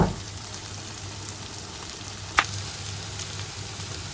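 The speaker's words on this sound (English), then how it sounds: "I really like the texture and color when I just little bit fry them in the pan" Vegetables fry in a pan with a continuous close crackling sizzle, broken once by a single sharp click or tap partway through.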